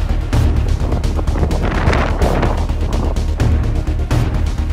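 Strong mountain wind buffeting the microphone in loud, roaring gusts that rise and fall, filling the whole stretch without pause.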